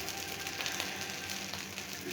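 Dosa sizzling on a hot pan after being flipped, a faint steady crackling hiss with no talking.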